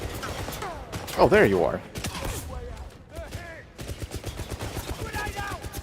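Gunfire rings out in the video game 007 First Light in rapid, close bursts. Someone talks over and between the shots.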